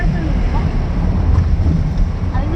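Wind buffets the microphone during an off-road jeep safari through Thekkady forest up in the clouds, a loud, continuous rumbling roar with gusty swells throughout.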